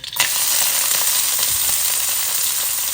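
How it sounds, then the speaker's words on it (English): Chopped celery, carrots and onion hit hot olive oil with a sudden loud hiss that settles into a steady, close, continuous sizzle with faint crackles throughout. "once it's hot, I'm going to add the chopped up veg."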